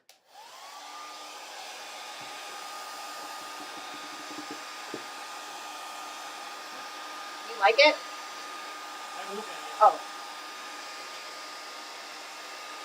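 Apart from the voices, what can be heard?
hair dryer blowing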